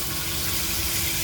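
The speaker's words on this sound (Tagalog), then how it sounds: "Pero dagdagan ko pa ng tubig," Water pours steadily from a tap into a cooking pot for boiling dinakdakan, a continuous close hiss and gush with no voices.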